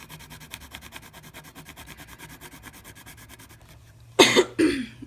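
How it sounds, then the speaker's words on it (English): Steady rhythmic scratching or rubbing during watercolor painting, then two sharp, loud coughs close by near the end. "sorry for the constant coughing"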